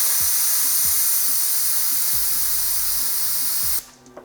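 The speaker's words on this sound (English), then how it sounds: "So there's a little bleeder valve here. I'm gonna press the screwdriver against it and let some out." Freon hisses loudly from the AC bleeder valve of an Infiniti G35, pressed open with a screwdriver, a continuous close spray that stops suddenly after nearly four seconds.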